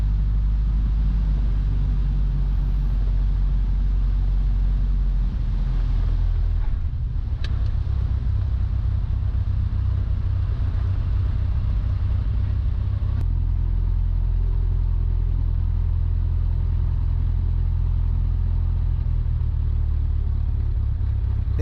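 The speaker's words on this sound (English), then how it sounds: "After clearing the runway, I began to pull the power back to idle." A Citabria light airplane's Lycoming engine idles after landing on a high-altitude mountain runway, a steady, close, low rumbling drone that continues throughout with slight shifts in tone.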